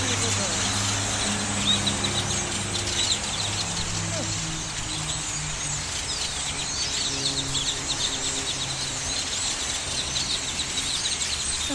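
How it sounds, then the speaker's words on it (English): A large flock of brown birds and blackbirds in city trees in Texas fills the air with a dense, continuous wash of overlapping chirps and calls, steady and loud throughout. "Texas brown birds and blackbirds."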